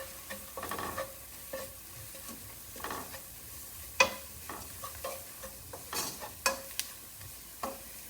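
Flour being stirred into softened vegetables in a pan, the start of a broccoli-carrot soup: repeated scraping strokes and soft clinks of a utensil over a low sizzle, with no talking.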